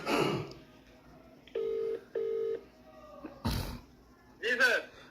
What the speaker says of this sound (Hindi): इनको मैं फ़ोन लगा रहा हूँ।